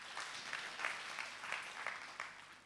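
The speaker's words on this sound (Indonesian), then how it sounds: "Tepuk tangan bagi Allah kita." Faint, distant clapping from a church congregation during a Sunday service, a short run of soft, fairly regular claps heard quietly from afar.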